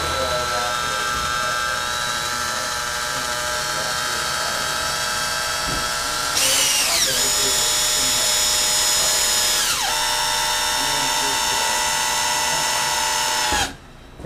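A power drill whines steadily as it drives a trim screw into a wooden window frame, changing pitch as the load shifts. It runs close and loud and stops abruptly at the end.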